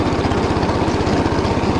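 A Motor Sich rotary tiller engine runs loud and close while milling stubble in a field, its steady pulsing chug throbbing rapidly and evenly without any voices.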